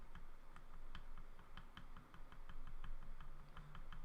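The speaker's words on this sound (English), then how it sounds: "I unfortunately have one of those loud keyboard and mouse." Rapid, uneven clicking of a loud computer keyboard and mouse, sharp close-up taps running steadily throughout, quiet overall and with no talk.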